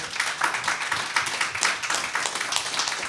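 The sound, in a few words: audience applause for panel artists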